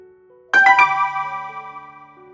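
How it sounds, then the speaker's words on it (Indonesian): A smartphone notification chime rings once, a bright layered tone that strikes and then lingers as it slowly fades, heard alone in a quiet room. "Suara notifikasi dari smartphone"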